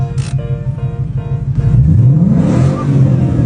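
A Ford Mustang with a 5.0 engine, heard nearby. It revs in short bursts, then rises into one long, loud climbing roar.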